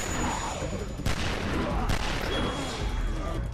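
Gunshots in The Walking Dead game crack in a rapid, loud volley, with two especially sharp blasts punching through a dense wash of noise.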